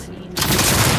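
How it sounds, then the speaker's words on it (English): A shotgun fires in the video game Cyberpunk 2077, a sudden loud blast that bursts in after a brief quieter moment and rumbles on through the rest of the moment. "Shotgun. Yes."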